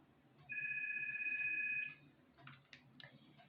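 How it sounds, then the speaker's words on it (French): A mobile phone rings indoors with a sustained electronic tone lasting about a second and a half. Short clicks and faint taps follow in a quiet room, and no one speaks. "mon téléphone ne veut pas s'arrêter"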